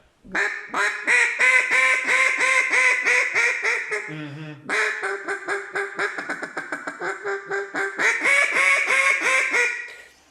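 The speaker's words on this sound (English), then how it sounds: "You can blow that call with minimal air. It takes almost nothing to get a ducky sound out of it." Soft quacking comes from an open-bore double-reed duck call blown with minimal air: two long strings of rapid, evenly spaced quacks with a short low honk between them, loud and close.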